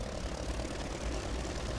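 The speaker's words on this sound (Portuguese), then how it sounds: "Motores em reverso, calma." Airship engines in the Worlds Adrift video game run in reverse, a dense, steady propeller drone and engine rumble that fills the whole stretch without pause.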